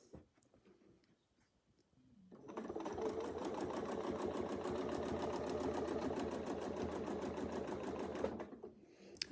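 A sewing machine stitches quilting fabric along an arc template, starting after a quiet pause with a fast, even mechanical whir and rapid needle clatter, close and steady before stopping abruptly.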